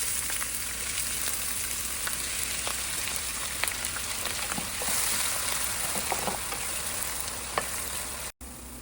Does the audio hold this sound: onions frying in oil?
yes